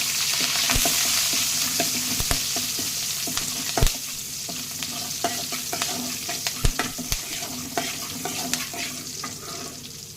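Green chillies and curry leaves fry in hot oil with mustard seeds in a pan for temple-style pongal, giving a steady close sizzle with occasional sharp clinks of a spoon stirring against the pan.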